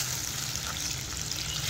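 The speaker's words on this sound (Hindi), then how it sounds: "और ऑयल ऐड करने के बाद हम इसमें फ्राई कर लेंगे।" Beef kofta fry in oil, giving a dense, steady sizzle that fills the whole stretch without pause and with no talking.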